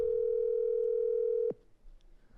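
A telephone dial tone on an outgoing call to a seller, one steady pure tone held for about a second and a half, then cut off abruptly into quiet line noise.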